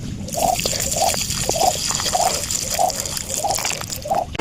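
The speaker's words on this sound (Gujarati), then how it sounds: "ચલો આને છે ને પાણી પાઈ દઉં" Water is poured onto potted taro plants, giving a run of regular splashing gushes roughly every half second, fairly close and distinct over a soft background hiss.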